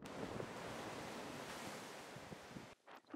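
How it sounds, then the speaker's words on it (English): Sea waves batter the exposed Cornish coastline on the Lizard, a loud continuous roar of surf with wind buffeting the microphone, cutting off abruptly near the end. "persistent waves continually batter the coastline, eating away at its shores"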